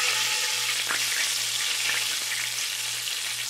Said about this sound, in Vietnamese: Tiếp theo thì mình đi chiên sơ mực.